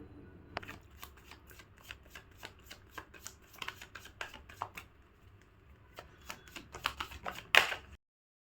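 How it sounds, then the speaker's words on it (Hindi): Tarot cards being shuffled by hand, a quiet run of crisp riffling snaps and flutters in irregular bursts, with a louder sharp flick near the end and no talk. "While I shuffle my cards"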